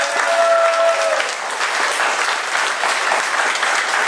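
Steady, dense applause from an indoor crowd fills a chess championship award ceremony, loud and continuous throughout with a faint tone at the start.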